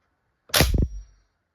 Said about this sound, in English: So cock and dry fire.